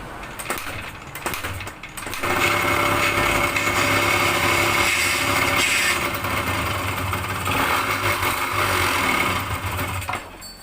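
A Yamaha DT125 motorcycle, its faulty CDI replaced by a KR coil, starts after a few quiet seconds, then its engine runs steadily and loudly up close with a buzzing, unbroken drone.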